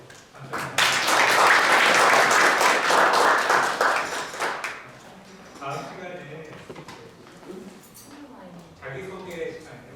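Audience applause fills a lecture hall at the close of a talk on future press risk management, a loud dense burst of clapping lasting about four seconds before fading into scattered claps and talking voices.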